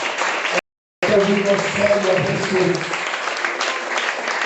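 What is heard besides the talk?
congregation applause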